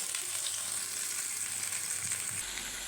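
Turmeric, salt, chili and coriander powder fry in a pan, making a loud, continuous close-up sizzle with light stirring scrapes underneath.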